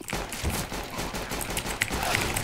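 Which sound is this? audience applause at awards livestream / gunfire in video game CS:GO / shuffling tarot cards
gunfire in video game CS:GO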